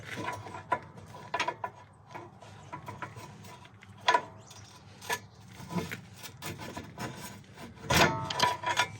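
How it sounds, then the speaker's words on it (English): A pry bar works a ball joint free from the steering knuckle on a 100,000-mile Subaru Forester, producing scattered metallic clanks, scrapes and creaks in irregular bursts, with a louder knock near the end. "Then we'll take a pry bar and separate the ball joint from the steering knuckle."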